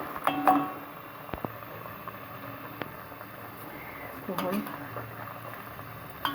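Carrot murabba sugar syrup bubbling in a pot over a gas flame turned up high, a faint, soft simmering with scattered pops and clicks, low in level beneath a quiet background of voice and room noise.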